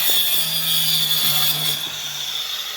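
Angle grinder fitted with a jagged saw-toothed wheel cutting wood, a steady high-pitched whine with rough grinding under it, close and continuous for a few seconds.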